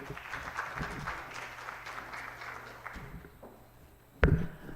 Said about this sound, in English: another round of applause to him, please